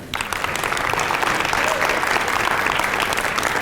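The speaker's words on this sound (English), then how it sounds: "Give yourselves a round of applause for that." Keynote audience bursts into sustained applause, thick uninterrupted clapping that starts abruptly and stays loud and even throughout.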